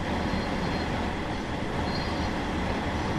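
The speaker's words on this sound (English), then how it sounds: "That's definitely the sound of the engine over the wheels," A steady, dense rumble of a train engine rolling over rails in Train Sim World 2 on the West Cornwall line, St. Ives to St. Erth, continuous and loud with no pauses or voices.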